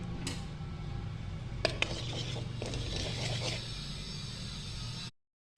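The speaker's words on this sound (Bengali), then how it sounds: "সয়াবিন ভাজা তেলের মধ্যে আমি দিয়ে দিচ্ছি হলুদের গুঁড়ো" Turmeric and chili powder hit hot soybean oil in a pan, giving a steady close sizzling hiss with a few scraping clinks of stirring, then an abrupt stop.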